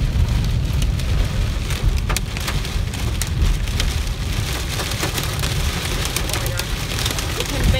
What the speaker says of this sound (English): Huge hail.